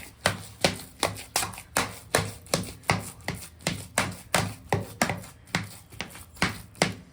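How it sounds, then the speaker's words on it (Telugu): Thick ragi dough for ragi sangati being worked in a pot off the stove, a steady series of about twenty sharp rhythmic thuds and scrapes, close and fairly loud, with no talking. "స్టవ్ అంతా బంద్ చేసి కిందికి దించి మంచిగా గెలుక్కుందాం"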